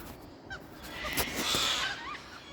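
Several birds call in short, harsh bursts near a climbing rope during tree trimming, close and moderately loud over steady outdoor background noise.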